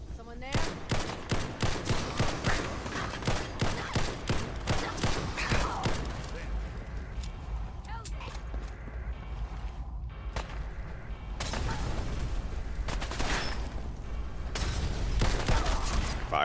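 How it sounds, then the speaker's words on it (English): Gunfire in the modded video game Fallout 4, a rapid rhythmic string of shots for several seconds, then scattered bursts and a heavier roar of firing later, with someone talking over it. "Who's shooting me?"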